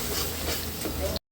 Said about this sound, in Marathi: तर इकडे खिमा शिजतो आपला.